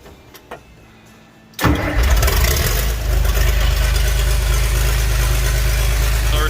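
A John Deere 4430 tractor's diesel engine cold-starts in snowy winter weather, a brief cranking and a few faint knocks giving way to a sudden loud roar that settles into a steady, heavy, close idle.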